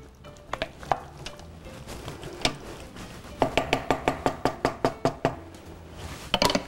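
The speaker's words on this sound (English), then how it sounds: "And then just move this around in our crock pot" A spoon scrapes and knocks against a crock pot while beef stew ingredients are stirred, giving a rhythmic series of close, sharp clacks with scattered taps before and after.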